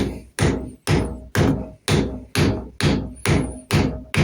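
Hammer blows tapping a knife handle down onto a hidden tang, nine evenly spaced, loud and close strikes, each with a short ringing decay, with no talk.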